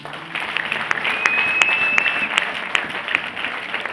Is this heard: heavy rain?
no